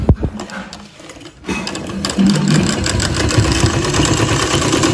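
Sewing machine stitching the fitted sleeve seam of a garment, running in a steady continuous whirr that starts softly, pauses briefly, then runs loud and unbroken to the end with no talking.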